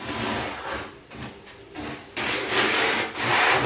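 A 1/2-inch notched trowel spreads tile adhesive across a shower wall in repeated rough scraping strokes, close and fairly loud, with no talking.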